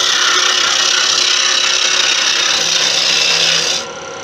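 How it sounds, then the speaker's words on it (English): Antler being scraped with a turning tool on a spinning wood lathe while shaping a slimline click pen, a steady loud hissing scrape that holds for nearly four seconds, then drops off sharply. "I'm kind of scraping, right?"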